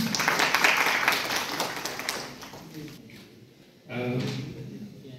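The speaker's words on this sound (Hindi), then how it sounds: "कृपया तालियों से उनका स्वागत करें" Audience applause fills a hall at an agriculture department training event in Jammu, welcoming a speaker to the stage, then fades as amplified speech continues.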